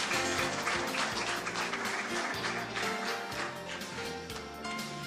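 A crowd claps steadily and densely throughout, sustained applause filling the room without a break.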